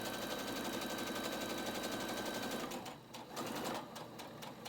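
A sewing machine stitches a seam through a triple-layer cotton face mask, running in a steady fast mechanical rattle for about three seconds before slowing and stopping in short bursts.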